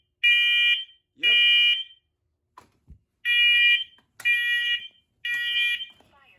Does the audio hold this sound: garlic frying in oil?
no